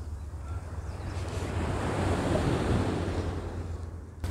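Sea waves washing on a Mediterranean beach: a continuous broad surf roar that swells toward the middle and eases off, with wind buffeting the microphone and no voices.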